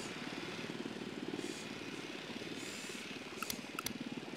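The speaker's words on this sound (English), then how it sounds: "The drone is up." A drone flies in the video game Ghost Recon Wildlands. It gives a steady, faint propeller drone and whir that holds throughout, with a few brief clicks near the end.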